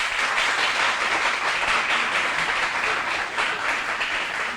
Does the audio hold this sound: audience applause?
yes